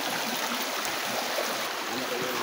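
Clear running stream water at a hillside campsite, a steady close broadband rush and babble with no talk.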